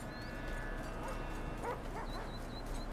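A police dog in the video game GTA 5 gives short whimpering yips and a few high whines over a steady, noisy game background, fairly faint and mixed with other sounds.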